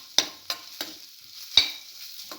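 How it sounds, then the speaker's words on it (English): Cinnamon scrambled egg stir fry mix sautéing in a pan, with a faint sizzle under a few sharp spatula scrapes and knocks spaced unevenly through the stretch. "Saute mix for another 4 to 5 minutes."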